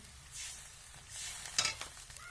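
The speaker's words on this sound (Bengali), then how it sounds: "আমি ওই কড়াইয়ের মধ্যে কিছুটা জল দিয়ে দিচ্ছি দিয়ে আমি সেই নিরেট মাংসগুলো সেই জলের মধ্যে দিয়ে দিচ্ছি" Water and solid pieces of chicken go into a hot kadai, making a quiet, close hiss with a short burst of sizzle and a faint clatter, and no voices.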